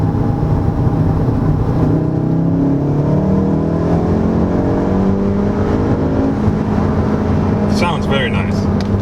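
A 2019 VW Golf R engine revs on downshifts into third gear, rising and falling in loud repeated surges heard from inside the car, with someone talking over it and a short hissy burst near the end.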